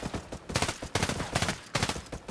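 Video game gunfire crackles in repeated rapid bursts, several volleys of automatic shots in quick succession, loud and close with brief gaps between strings.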